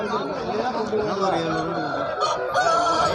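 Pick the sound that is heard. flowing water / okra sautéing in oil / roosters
roosters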